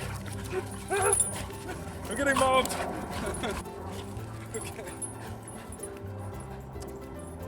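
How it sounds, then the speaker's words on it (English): Several excited dogs whimper, yip and bark around a person outdoors, the noise coming in bursts close by, with speech mixed in and a steady low background hum. "So these dogs love us."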